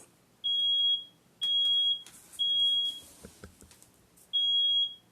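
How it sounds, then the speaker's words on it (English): A smoke alarm, set off by cooking, sounds four shrill, piercing beeps at a steady pace, with some clattering and rustling between the third and fourth. "I've set off the smoke detector."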